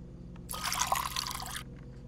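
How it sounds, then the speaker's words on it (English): Water pours into an empty cup inside a house in the horror game Fears to Fathom: Woodbury Getaway, a close, bubbly splashing stream lasting about a second and then stopping abruptly against quiet room tone. "Needed an empty cup to fill the water."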